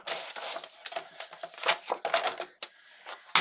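Red paper is cut on a paper trimmer, a run of quick scraping and clicking strokes up close, uneven in rhythm with short pauses, ending in a sharper snap.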